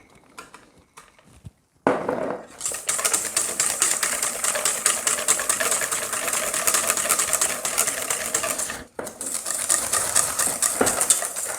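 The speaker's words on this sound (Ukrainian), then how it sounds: "Вершки збиваємо до отримання стійких піків." An electric mixer whips cream to stiff peaks for a no-bake dessert. After a quiet start it kicks in loud and close as a steady, buzzing whir, dips for a moment near the end, then runs on. Nobody speaks.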